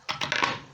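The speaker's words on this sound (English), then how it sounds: "So I'm going to add in my potatoes." Raw potato pieces tumble into a cooking pot for a vegetarian stew, a quick burst of dry clattering knocks lasting under a second, close and fairly loud with no voices.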